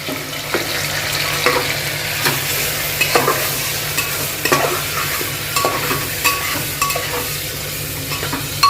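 Yogurt-marinated mutton with chopped onion and tomato fries in a pot for biryani. A loud, steady sizzle runs throughout, with repeated spoon scrapes and knocks while it is stirred, close up and with no talk.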